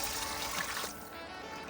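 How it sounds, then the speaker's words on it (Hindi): Water gushes into a pressure-cooker pot of spiced food in a home kitchen as a steady, close splashing pour that eases off into a softer trickle. "अब यहाँ पे ना मैं पानी इसमें भर के डाल दूँगी इसके।"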